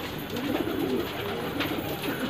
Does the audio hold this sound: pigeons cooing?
yes